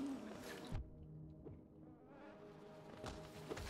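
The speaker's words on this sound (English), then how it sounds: "There is one big bee nearby." A large bee in the video game Hollow Knight gives off a faint, steady insect-like buzz under game sound effects, with a few sharp swooshing hits and chimes scattered throughout.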